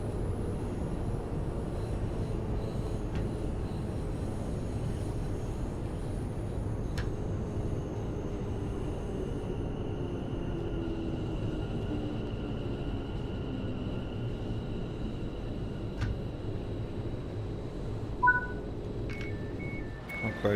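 Train pulling into platform 9 at London Euston in a train video game: steady low rumble and rolling wheel noise throughout, with faint high tones and a few soft clicks near the end, no talk.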